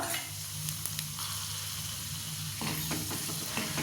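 Chana dal, urad dal and curry leaves fry in hot oil for green poha, giving an even, close hiss, with a few scraping stirs toward the end.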